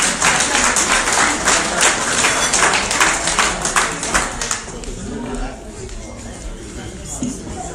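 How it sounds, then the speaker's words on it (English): An audience at a 2017 college scholarship signing-day award ceremony claps in dense, steady applause that tapers off into scattered claps and crowd chatter. "Round of applause, please."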